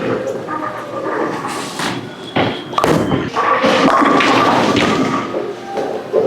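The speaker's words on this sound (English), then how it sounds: "We are just bowling on a typical house shot here at Maple Lanes." An NV Tour bowling ball rolls down the lane of a bowling alley, a loud rumbling roll amid thuds and clatter, with the echoing din of the alley around it.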